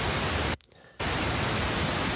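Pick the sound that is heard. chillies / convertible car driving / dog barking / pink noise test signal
pink noise test signal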